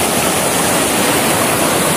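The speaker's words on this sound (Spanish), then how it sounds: "Cascada, cascada, cascada." Loud, close roar of a cascading waterfall, a dense unbroken rush of falling water with no voices.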